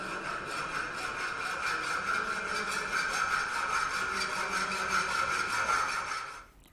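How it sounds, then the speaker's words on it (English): A flat file worked across the surface of a metal workpiece clamped in a bench vise, giving a continuous, close, harsh rasping scrape in rapid strokes that stops near the end, with no talking. "With the help of flat file, start filing the surface."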